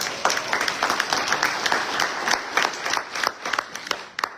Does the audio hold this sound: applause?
yes